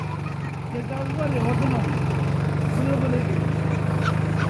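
A two-wheel-drive tractor engine idles with a steady low rumble, while people talk over it in the foreground.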